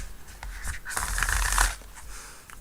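A close, crisp riffle of tarot cards being shuffled, a fluttering burst that swells and fades, with no talking.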